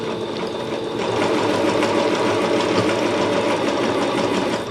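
A sewing machine stitches dress fabric in a steady, continuous whir, loud and close, running without pause for several seconds with a rapid mechanical chatter throughout.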